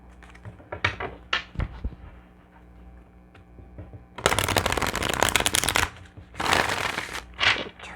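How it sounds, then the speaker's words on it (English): A deck of tarot cards is shuffled close up. Short riffling bursts and taps come early, then two longer, louder flurries of shuffling follow, with no talking. "I'm going to do one more shuffle."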